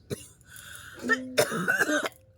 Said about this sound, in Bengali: বাবা ঠান্ডা লেগে কাশি হচ্ছে